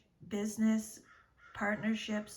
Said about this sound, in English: can you hear those crows outside?